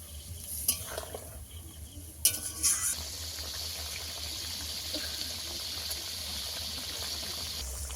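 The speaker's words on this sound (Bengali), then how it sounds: "জল বেশি করে একটু দিয়ে দেবো।" Water poured into a prawn curry cooking in a pan (prawns freshly caught from a river), with splashing and bubbling bursts early on, then a steady hiss of simmering and frying.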